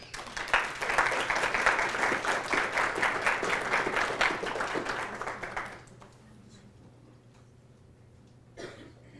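Audience applause following a UNLV Presidential Debate Lecture Series talk: dense, steady clapping from a full room for about six seconds, then dropping away to a quiet hall with a faint stir near the end.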